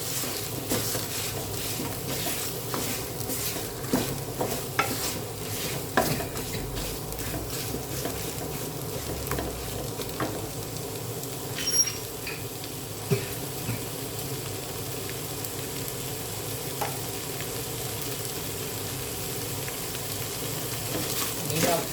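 Pork stir-fried with fish sauce in a pan, a steady moderate sizzle with occasional spatula scrapes and taps over a long stretch.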